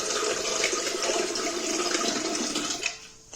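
Water is poured into a pot holding eggs set up for boiling for an egg curry, a steady rushing splash lasting about three seconds that tails off at the end, with no talking.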